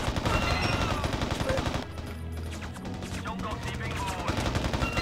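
Heavy machine gun fire in the video game Mercenaries, rapid loud bursts of shots that pause midway and resume, with battle noise behind.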